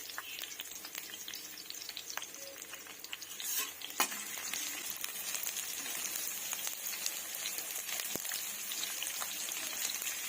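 Finely chopped ginger and garlic fry in a pan for an oyster mushroom dish, giving a continuous close sizzle with scattered light taps and scrapes of stirring and one sharper clink midway, without any voices.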